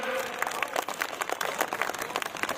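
Applause from an audience at a Hindu festival gathering, a brief burst of scattered clapping heard faintly from a distance, with a voice faintly audible underneath.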